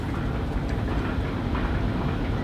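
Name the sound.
cable car arriving in video game Resident Evil 4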